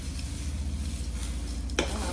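A spoon steadily stirs and scrapes through dry chevda snack mix in a pot, producing a continuous close, gritty rustle with one brief knock near the end.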